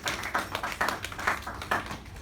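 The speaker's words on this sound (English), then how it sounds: "Give yourselves a big hand clap for being here" An audience gives a short round of applause, with a few distinct clusters of clapping rising and fading in loose bursts across the clip, fairly close and unaccompanied by talk.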